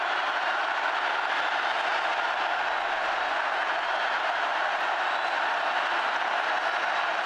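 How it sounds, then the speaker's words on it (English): A big stadium crowd roars at the 2009 Oklahoma State at Oklahoma college football game ahead of a fourth-down snap, a loud, dense, unbroken wash of noise that holds steady throughout. "Crowd roaring here."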